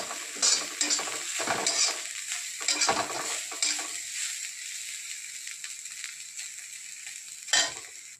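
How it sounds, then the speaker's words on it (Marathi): Curry leaves sizzling and crackling in hot oil in a pan while making a dried-fish chutney, with bursts of spattering, scraping stirs and a softer steady fry that fades toward the end. "त्यात टाकत आहे थोडंसं कढीपत्ता, ते पण त्यासोबत छानसं भाजून निघेल"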